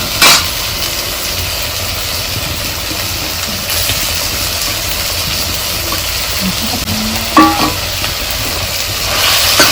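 Turmeric roasting in ghee over medium heat on a wood-fired chulha, a steady low sizzle with occasional scraping stirs and a few sharper clinks, close and continuous with no talk.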